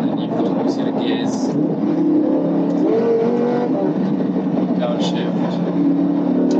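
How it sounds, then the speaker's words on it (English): A Lamborghini Huracan V10 revs hard from behind, a loud continuous engine roar with rising pitch through gear changes and faint crackling exhaust pops, while someone talks over it. "Straight away, instant power from that V10 behind me. Sounds good. And those cracking the pops."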